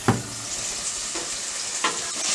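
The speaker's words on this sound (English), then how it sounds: "Now we're gonna stir that." Chili ingredients sizzle steadily in a hot pan, with a few louder scraping stirs of a spoon punctuating the constant frying hiss, close and fairly loud.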